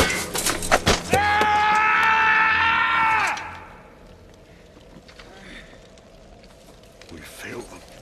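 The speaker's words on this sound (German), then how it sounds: "Der große, qualvolle Schrei, den wir in dieser Szene hören, war nicht gespielt." An actor gives a loud, agonised scream after breaking his toes kicking a helmet in a film scene: a sustained, anguished howl lasting about two seconds after brief rustling, then a quiet, noisy background.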